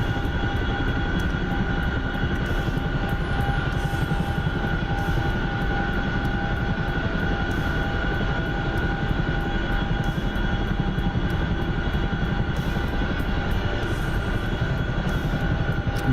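A Chinook helicopter's engines roar in the DCS flight simulator game, a dense, constant drone with steady tonal whine that fills the whole stretch without pause.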